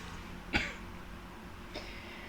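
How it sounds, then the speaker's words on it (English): A man coughs once, sharp and close, during a live podcast, with a much fainter second cough or throat clear about a second later. No one speaks. "Cough break."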